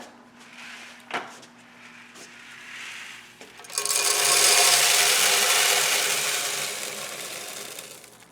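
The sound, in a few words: grain mill milling malt on homebrew day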